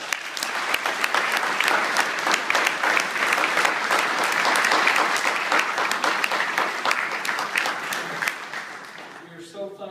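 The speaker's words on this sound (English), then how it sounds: "Please give them a big round of applause." A meeting audience gives a big, sustained round of applause for visiting military officers: dense, loud clapping that holds steady for nearly ten seconds before thinning out at the end.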